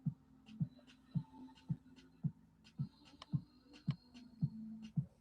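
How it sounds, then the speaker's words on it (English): A 1964 Viking Husqvarna 19E sewing machine stitches through two layers of vegetable-tanned leather, giving a slow, regular thumping rhythm of about two needle strokes per second over a faint motor hum, close and clear. "we're sewing on 2 layers of vegetable tan leather"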